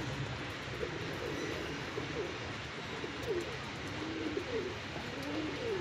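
Jacobin pigeons, a guaranteed breeder female with a closed face and full hood in moult, coo in repeated soft rounded phrases at close range against a steady background hum, with no talk.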